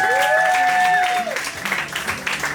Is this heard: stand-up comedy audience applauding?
yes